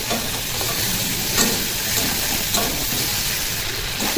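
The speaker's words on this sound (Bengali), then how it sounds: "আমি মাছটাকে হালকা করে ভেজে নেবো" Fish, seasoned with salt and turmeric, lightly fried in hot oil, giving an even, close sizzling hiss with a few soft stirring scrapes and no talking.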